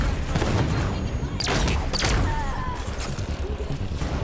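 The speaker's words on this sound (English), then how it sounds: "Ah, that's a scatter shot." Scattershot weapon fire in the Halo 5 campaign, with loud bursts of sharp blasts and crashing impacts over a dense, continuous game soundscape of effects and ambience.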